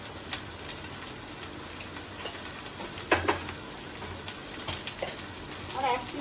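Mustard paste masala fries softly in a pan for a stuffed brinjal curry, giving a faint, steady sizzle with a few scrapes of stirring scattered through.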